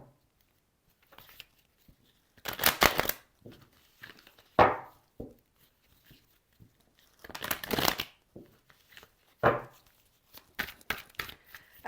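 Oracle des miroirs cards are shuffled in short bursts of crisp riffling and slapping, several separate rounds with quiet gaps between them and no voice.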